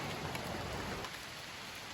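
Heavy rain pours continuously on a mountain trail on Mount Aseupan, a dense hiss of drops on surfaces, loud and close throughout, with no voices.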